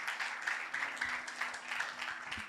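Congregation in a church applauding during a sermon, a brief burst of many hands clapping with a lumpy, uneven rhythm, moderately distant and steady throughout.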